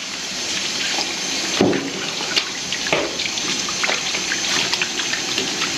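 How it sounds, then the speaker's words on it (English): Running water rinses alligator gar meat, a steady splashing flow like a tap over a sink with brief louder gushes, close and continuous with no talking. "You're gonna rinse it as much as you can right now"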